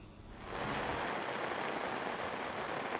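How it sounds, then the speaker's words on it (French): Heavy rain pours at night during the July rainy season in Man, Côte d'Ivoire. It comes up into a steady, dense, loud hiss of downpour that fills the whole scene with no voices. "Il pleut des cordes sur la cité des 18 montagnes."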